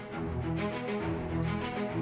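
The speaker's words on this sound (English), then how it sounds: "I also wanted the string shorts as well. So this is what that sounds like." Orchestral strings play short, detached notes in a repeating six-beat rhythm, sustained and moderately loud throughout.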